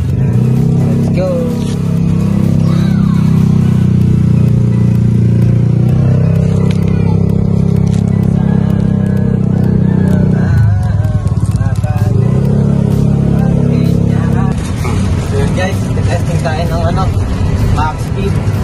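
A Kuda Lion four-wheel e-bike runs at speed with a steady loud whirring drive and road rumble, shifting pitch as it speeds up, while someone talks over it throughout.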